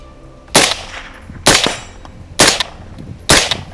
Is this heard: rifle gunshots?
yes